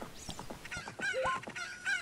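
Chickens squawk in The Legend of Zelda: Ocarina of Time Master Quest as a horse strikes them, a series of sharp, close bird cries in the game's sound effects.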